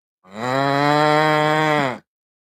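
A single cow moos loudly and close, one long sustained low call with rich harmonics lasting nearly two seconds before cutting off.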